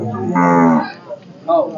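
A Gir bull calf at the Kadayam cattle market gives a loud, drawn-out moo, then a shorter second call after a brief pause.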